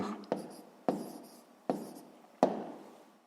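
Pen or marker strokes writing out a multiplication of fractions by hand, a sharp tap at the start of each stroke followed by a short scratch that fades, four or five strokes in a steady rhythm, close and alone.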